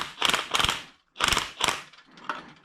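Spring compressor being tightened onto a car coil spring while fitting H&R lowering springs on a Subaru GC8 2.5RS, giving close ratcheting clicks in short repeated bursts with brief pauses between.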